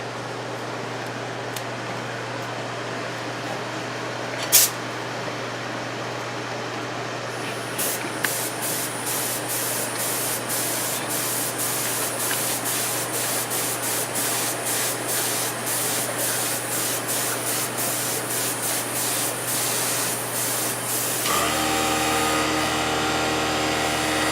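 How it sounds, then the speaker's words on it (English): A continuous hiss from a 4-ounce spray gun spraying layers onto casting molds runs throughout, with an airy, steady rush and a series of rapid clicking pulses partway through, growing louder near the end. "So I'm going to be in there just spraying about 3 or 4 layers on each appliance."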